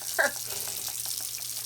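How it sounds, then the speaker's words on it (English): Water running from a sink tap into a home sink, a steady soft broadband rush with a brief louder splash near the start, close by and alone. "I do it right here in my sink and usually run a little water too"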